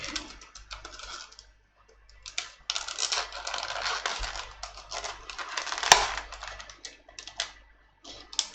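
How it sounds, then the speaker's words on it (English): Crinkling and tearing of plastic wrapping around a Barkham Horror card game box, irregular crackly bursts with pauses and one sharp snap near the end, close to the microphone. "Joys of live streaming is you can see me struggling with basic plastic packaging."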